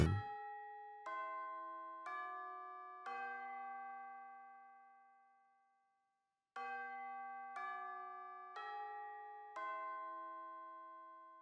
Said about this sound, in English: That is a long bell.